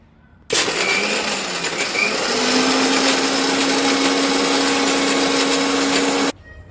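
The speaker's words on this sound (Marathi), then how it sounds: "आता हे मिक्सरमधून ग्राइंड करायचं." A mixer grinder whirs loudly, blending mint leaves, jaggery, black salt and a few ice cubes for homemade sugarcane juice. The motor starts abruptly, runs steadily with a rising hum for about six seconds, then cuts off.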